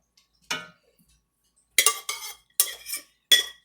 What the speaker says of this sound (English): we're going to mix up the topping